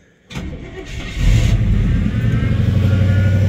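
An old truck engine cranks and catches, then settles into a loud, steady rumble close by, idling high and rough without pause.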